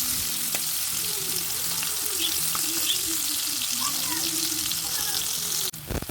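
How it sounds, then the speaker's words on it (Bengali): Bitter gourd pieces frying in white oil, a loud, steady sizzle close by with light stirring clatter, ending in a brief knock near the end. "উচ্ছেগুলোকে এক এক করে দিয়ে লাল লাল করে ভেজে"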